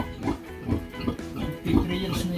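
Pigs on a Filipino backyard pig farm grunt and oink in repeated low snorts, close and moderately loud, over a continuous murmur of farm background.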